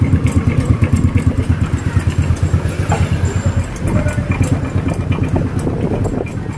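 A motorcycle engine that turned noisy after an oil change idles roughly up close, with a loud, uneven, rapid chugging pulse and rattling clatter throughout.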